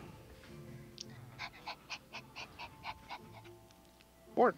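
A person imitates a dog with a string of about ten rhythmic, breathy bark-like sounds, evenly spaced and fairly soft, ending in a louder vocal burst.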